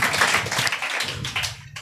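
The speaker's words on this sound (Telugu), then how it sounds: "చప్పట్లు కొడదాం ఒకసారి." Church congregation at a Sunday service clapping together, a brief, close burst of hand claps with a quick uneven rhythm.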